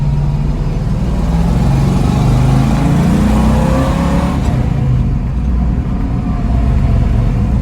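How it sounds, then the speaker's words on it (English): A black 1966 Ford Mustang cruises along, its engine a steady, close, loud drone with slight rises and falls as it drives, and no one speaks. "Going for a cruise in the black Mustang"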